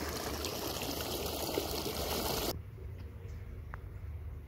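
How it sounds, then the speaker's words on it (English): Water rushes through a ranch ditch at peak spring runoff, a loud, dense hiss and gurgle close by for a couple of seconds, then a quieter, softer trickling flow. "water's flowing pretty good through here"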